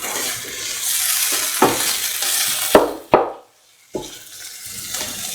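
A spoon stirs a cottage cheese and red spinach stew in a pan, scraping and clinking against the metal in irregular strokes over a steady low sizzle, with a brief near-silent pause partway through.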